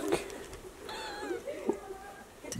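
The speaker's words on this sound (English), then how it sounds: "These are the cutest kittens ever." Kittens near a pile of logs mewing in thin, wavering high cries, a few short calls and one longer drawn-out meow, close by over faint background noise.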